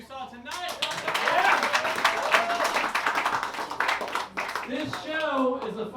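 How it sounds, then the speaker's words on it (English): A comedy show crowd applauds and cheers for the night's comedians, a dense, steady wash of clapping from a large audience with a host's voice talking over it at the start and end. "how about another round of applause for all the comedians you saw tonight?"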